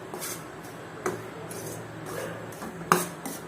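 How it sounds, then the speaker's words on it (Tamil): Ragi flour being dry-roasted in a pan and stirred, giving soft repeated scraping and rubbing strokes with a few sharper clinks of the utensil against the pan. The sound is close and intermittent, with no voices. "இப்போ இது நல்லா வறுத்துக்கலாம் ராகி மாவோட பச்சை வாசம் போகிற அளவுக்கு வறுத்தா போதுங்க"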